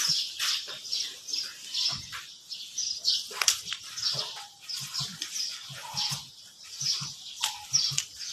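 A mother parrot moving about and flapping its wings, heard as repeated soft bursts of fluttering and rustling scattered across the stretch, fairly faint and close, with no talking.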